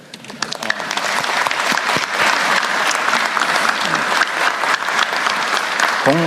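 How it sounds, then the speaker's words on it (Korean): Loud, dense clapping from a large room at a government work briefing, continuous and close throughout, with a voice breaking in briefly near the end. "여기 또 박수 한번 쳐드릴까요?"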